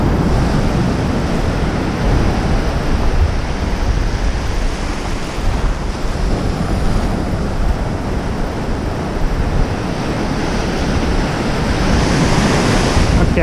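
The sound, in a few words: ocean waves breaking on beach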